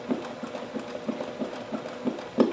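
Sewing machine running at its slowest speed, a quiet, evenly spaced series of soft mechanical clunks, roughly three per second, heard alone.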